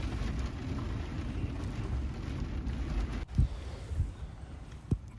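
Rain falling steadily around a Volkswagen Westfalia camper van at night during a thunderstorm, with a couple of short, sharp thumps standing out near the end over the constant patter.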